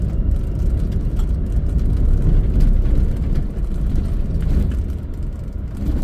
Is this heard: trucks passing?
yes